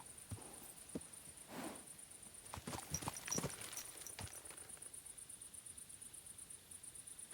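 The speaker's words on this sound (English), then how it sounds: "Easy, good horse." Horse hooves in the video game Kingdom Come 2, a few faint, scattered clip-clop thuds clustered mid-clip over a soft background with a thin high steady tone.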